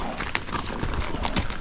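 A ranch horse's hooves clop irregularly on the ground near a gate, close and moderately loud in a short, uneven series of steps.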